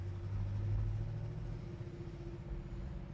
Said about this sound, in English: the exhaust on this car sounds amazing too